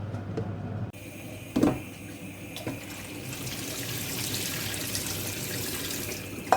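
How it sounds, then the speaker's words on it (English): Cold tap water runs into a kitchen sink, rinsing a saucepan and potatoes in a colander; a soft, steady splashing flow with a few clanks and knocks of the pan, no voices. "I'm rinsing my saucepan off at the same time. This is just cold water."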